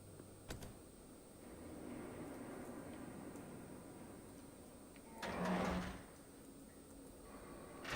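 In the Batman Telltale video game a door slides open with one short, muffled scraping rush midway through, rising briefly above a faint, steady background hum with no voices.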